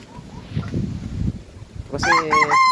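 Chickens cluck softly in a rural yard, then a rooster lets out a loud, close crow that carries to the end.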